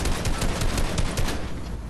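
Rapid gunfire in the video game Fortnite, a dense, loud burst of repeated shots that rattles on for most of two seconds before easing off slightly, with no talk over it.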